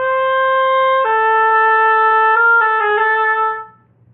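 A solo oboe plays measure 19 of the 2018 all-state etude, holding one note, dropping to a lower sustained note, then moving through a few short neighboring notes before releasing, close-miked over faint room hum.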